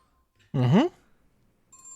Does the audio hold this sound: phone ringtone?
yes